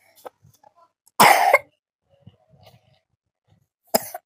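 A child coughs in two loud, harsh bursts, a long fit of coughing near the start and a shorter one near the end, with faint rustles and quiet household sounds in between.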